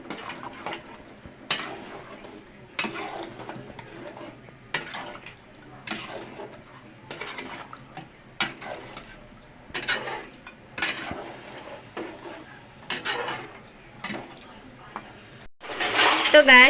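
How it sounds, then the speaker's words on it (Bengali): A spoon scrapes and clatters against a pot in a steady series of knocks while chana dal and goat head meat are stirred, and a voice talks quietly between the strokes. "এখন আমরা এটা ভালোভাবে নেড়ে নেব।"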